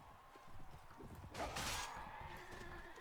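Horse hooves clip-clopping in a video game, a steady run of hoofbeats under low background game sound, with a brief louder burst midway.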